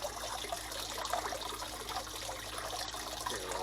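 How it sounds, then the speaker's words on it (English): Water trickles and splashes steadily over a small homemade waterfall in an indoor turtle pond, a continuous soft burbling wash that stays even throughout with nobody talking. "Here's a little waterfall"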